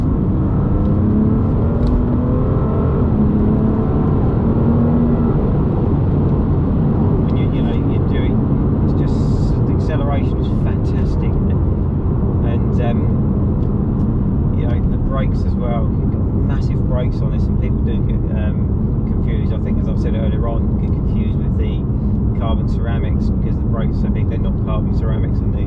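A BMW M2 Competition engine running in sport plus mode with manual shifting, a loud, constant low drone of engine and road noise from inside the car, with light clicks and rattles over the top.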